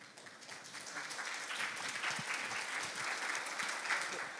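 A youth forum audience gives a round of applause for a presenting student team, soft and fairly distant at first, then swelling into steady, even clapping.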